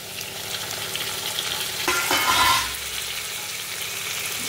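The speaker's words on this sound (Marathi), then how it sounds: "तो टमाटा आपण याच्यात टाकणार आहोत" Chopped tomato with ginger and green chilli drops into a hot pan, setting off a steady close sizzle that swells briefly with stirring, then settles into continuous frying.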